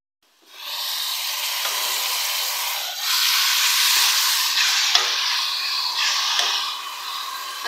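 Minced keema meat hits a hot pan of spiced masala for a keema biryani, setting off a steady loud sizzle and hiss that swells as it is stirred, with occasional soft scrapes.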